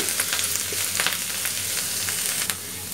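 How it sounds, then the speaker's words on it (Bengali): Grated bottle gourd stirred and fried in a pan until browned, for a milk-and-gourd sweet: a constant dense sizzle with soft stirring scrapes, close and steady, no talking. "এটা ভালো করে একটু নড়াচড়া দিয়ে ভাজা ভাজা করে একটু ব্রাউন কালার করতে হবে"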